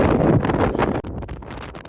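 Strong gusting wind buffeting a PreTents Border tent, loud roaring blasts and fabric flapping close to the microphone, easing briefly midway.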